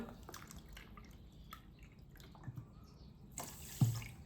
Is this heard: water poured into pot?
yes